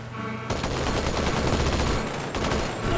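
Sustained rapid gunfire in Halo 2 starts abruptly after a quiet half-second and rattles on loud and dense as continuous automatic shooting, with no talk over it.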